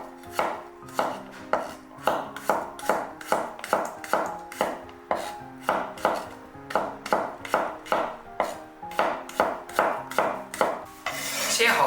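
A knife slices garlic cloves thinly on a cutting board, making a steady run of crisp, evenly spaced chops, close and loud, with no talking.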